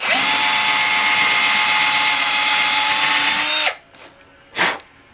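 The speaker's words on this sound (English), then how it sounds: "take the drill bit that was measured out to be as deep as the fret is long, put the piece of flapper tape, and we're going to come to right here and drill down till the tape hits." A power drill whines loud and steady for several seconds while boring a hole in a guitar fretboard, then stops, and a short burst follows.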